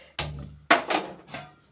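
A metal cooking pot set down on a gas stove burner, giving two sharp clanks about half a second apart followed by a softer knock, close and fairly loud with no talking.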